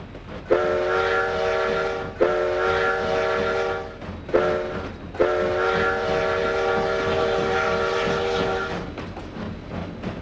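Narrow gauge D&RGW steam train in the Trainz 2009 game near Cumbres Pass, sounding four whistle blasts in a row, two longer and two short, over a steady rolling rumble, loud and close with no voices.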